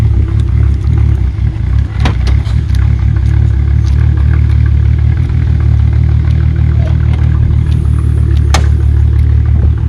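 A 2001 Audi S4 Avant twin turbo with six-speed, SCP Y-pipe, AWE intercoolers and modified intake runs loud and steady, its deep low rumble continuous throughout with a few sharp clatters on top.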